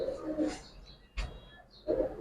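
Male giribaz pigeons make a few low, soft coos close by, with faint background chatter and a brief rustle in between.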